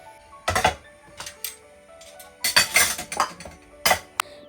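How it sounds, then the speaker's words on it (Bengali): Dishes from the day's meals and breakfast being washed by hand: clinks and clatters of plates, pots and utensils in sporadic bursts, fairly close, over a faint background hum. "এই যে সারা দিনের যা বাসন বের হয়েছে আর সকালে নাস্তা করার পরে আসলে অনেক কিছুই বের হয় তো এগুলা হচ্ছে আমি এখন ধুয়ে রাখবো"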